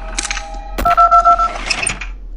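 Touch-tone dialing beeps from a phone in the horror game Five Nights at Candy's 2, a steady run of about five short, evenly spaced tones, loud and clean over faint game ambience, with no talking.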